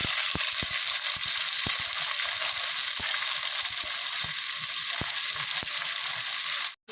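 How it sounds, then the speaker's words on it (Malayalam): Shallots with green chili and curry leaves sauté in a pan for Kerala-style onion curry, giving a steady close sizzle broken by sharp scraping clicks from a stirring spoon, with no one talking. "ഇതൊന്ന് നന്നായിട്ട് ഇളക്കി യോജിപ്പിക്കണം"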